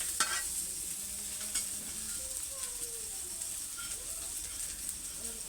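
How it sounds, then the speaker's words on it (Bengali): Chopped onion fries in a pan as the start of a quick egg dish, giving a steady, fairly quiet sizzle with a few light stirring clicks throughout and no voices. "পেঁয়াজটা এইভাবেই একটু ভাজা নেব আগে"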